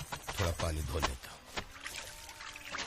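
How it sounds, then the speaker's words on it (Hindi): Water is poured for washing up, a short splashing pour with a voice and some rustling heard early on before it fades into quieter background. "थोड़ा पानी धो लेता"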